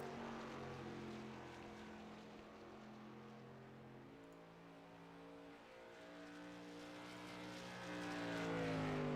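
An SK Modified race car turning practice laps at New Hampshire Motor Speedway, its engine a steady, droning roar whose pitch slowly sags and climbs as it circles, heard from a distance and alone.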